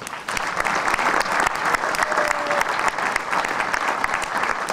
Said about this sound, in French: Je vais demander d'applaudir parce qu'il travaille énormément pour vous